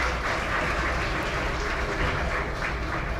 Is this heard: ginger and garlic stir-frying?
no